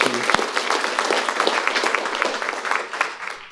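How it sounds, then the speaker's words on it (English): Audience at a city budget retreat applauding the staff, a steady burst of many hands clapping close by, fading slightly toward the end. "If you could give them a round of applause, I'd appreciate it."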